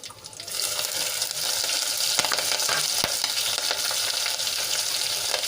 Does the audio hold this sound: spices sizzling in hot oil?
yes